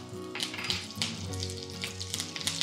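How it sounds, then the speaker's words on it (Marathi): Mustard seeds, cumin and curry leaves sizzling in hot oil in a flat pan, a close, continuous crackling fizz with small sharp pops and taps throughout. "तव्यामध्ये तेल गरम झालेलं आहे. यामध्ये सगळ्यात आधी जाईल मोहरी."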